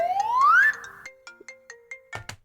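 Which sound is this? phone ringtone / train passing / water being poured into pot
phone ringtone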